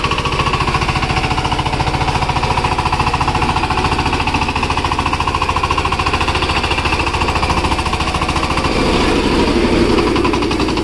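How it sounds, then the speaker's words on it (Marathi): A tractor works a rain-soaked rice paddy in the hills around Velapur, Mahabaleshwar, its engine chugging loud and close in a steady, rapid rhythm that never lets up. "आणि हा आमचा ट्रॅक्टर आहे मयादाचा"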